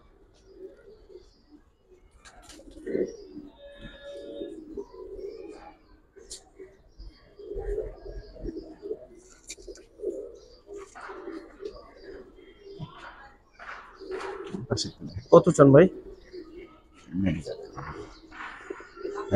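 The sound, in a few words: pigeons cooing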